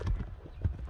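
A grey-roan horse's hooves clip-clop in a short burst of a few low, close thuds on the ground, with no voices over them.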